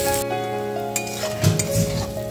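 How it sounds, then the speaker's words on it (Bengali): Onions fry gently in a small amount of oil in a pan, a soft sizzle under clinks and scrapes of a utensil stirring them, with a few louder knocks near the end. "তো চলো আস্তে আস্তে পেঁয়াজটা একটু কালার ধরে ভাজবে"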